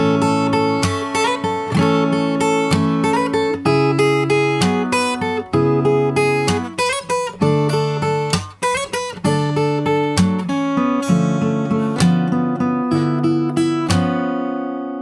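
A fingerstyle acoustic guitar plays the solo section, plucked melody notes over ringing chords in a steady flowing rhythm, loud and close, alone with no voices, the last chord left to decay.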